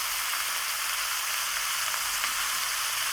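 Fish sautéing in a pan with salt, turmeric and chilli powder, giving a continuous, even, hissing sizzle that holds steady throughout, close and without talk.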